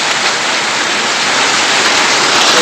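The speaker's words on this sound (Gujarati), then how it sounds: "જોવો ખાલી વરસાદ, વીજળી કડાકા ને ભડાકા" Heavy rain pours down on a highway in a dense, steady roar that stays loud and unbroken throughout, with no distinct thunderclap standing out.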